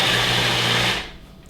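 A food processor pulses a sloppy joe mixture with barbecue sauce, its motor whirring steadily and close for about a second before cutting off abruptly.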